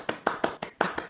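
Online meeting participants applauding, a few sharp, separate hand claps in an uneven rhythm, close and fairly quiet, with no voices.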